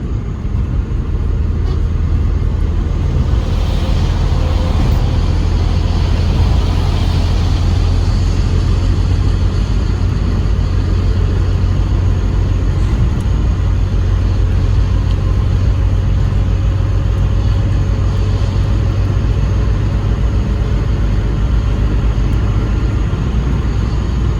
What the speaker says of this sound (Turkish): ben bu arabayı solacağım derken tır beni soluyor